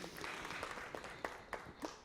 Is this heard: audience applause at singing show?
yes